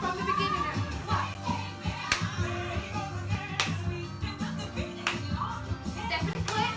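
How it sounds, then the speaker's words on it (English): Hand claps in a family dance fitness class ring out sharply over upbeat workout music, landing roughly once a second in a steady beat, with an instructor calling out moves. "From the beginning, clap."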